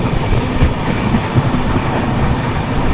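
An express train roars past at close range, a dense, loud rumble of wheels on rails with faint rhythmic clatter throughout.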